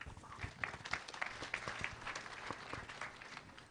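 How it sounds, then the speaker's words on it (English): An audience at a live investors' forum on pharmaceutical manufacturing claps in sustained, even applause with scattered distinct claps, heard faint and from a distance. "Let's add another round of applause."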